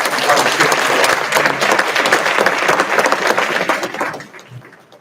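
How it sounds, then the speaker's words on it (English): An audience at a reception for court commissioners gives a round of applause, dense loud clapping that holds steady for about four seconds before tapering off to quiet. "So for Sam, for Toshiko, for Ryan, for Fred, please give them another round of applause."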